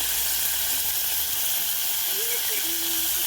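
Fresh coriander leaves fry in hot oil with a loud, steady hiss and crackle that fills the whole moment, while a voice speaks briefly underneath.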